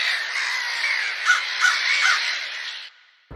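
A cartoon crow gives a run of harsh caws, three sharper calls standing out in the middle, loud and close, then breaks off into near silence with a brief click at the end.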